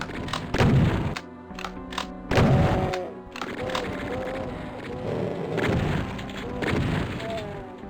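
Heavy, booming weapon thuds go off in PC Final Doom on the Hangar level, two loud blasts early and then several duller hits spread out, mixed with rumbling game noise and growling.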